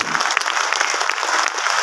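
Audience applause at a motivational business talk, a dense steady wash of many hands clapping close by for the whole stretch, with no pauses.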